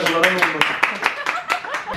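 Guests at a company New Year's party clap in sharp, uneven bursts, several distinct claps ringing out over lively talk and a chuckle.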